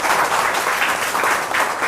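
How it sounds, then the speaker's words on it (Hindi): Studio audience of a Hindi KBC-style general-knowledge quiz show bursts into steady, loud applause, dense clapping sustained throughout with no voices over it. "एक जोरदार ताली होनी चाहिए।"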